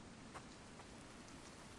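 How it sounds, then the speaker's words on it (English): Rain beginning to fall in the survival video game The Infected, a faint, steady hiss of drops with occasional soft taps, nobody talking. "it is starting to rain"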